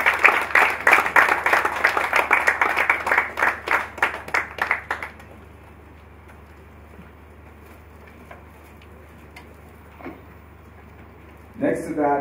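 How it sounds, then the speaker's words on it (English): Applause from a small audience at the NSE 2019 X-Kathon event, a burst of steady clapping for about five seconds that then fades into quiet room noise, with a brief sound near the end. "Please, a round of applause."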